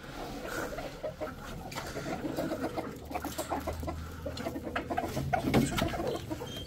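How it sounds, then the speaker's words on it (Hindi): Several chickens cluck and squawk continuously at a modest distance, their overlapping calls forming a busy, restless chatter with no talking. "लड़ाइयाँ चल रही हैं मुर्गियों की खाने पे"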